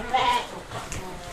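Sheep or goats bleat at a crowded livestock market selling domba and kambing, with one or two short calls rising over steady background chatter and a voice speaking nearby.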